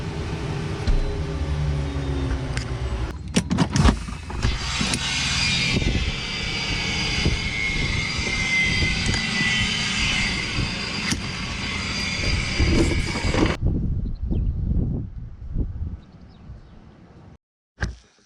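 Twin jet engines of a Cessna Citation M2 running after landing, a loud steady close whine and roar with rumble that holds for most of the stretch, then cuts off abruptly as the engines stop.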